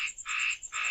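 Frogs croak on a rainy night on a mountain, a close, loud, pulsing trilled call that repeats in three long bursts with short gaps.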